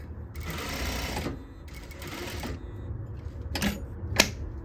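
A sewing machine stitches the waistband seam of an elastic-waist circle skirt, running in two sustained bursts and then giving a few short back-tack clicks near the end, close and clear with no talk.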